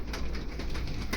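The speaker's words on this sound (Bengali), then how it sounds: "ওরে পাখি" A bird, apparently a pigeon, gives a soft, brief coo, faint and close against a noisy background.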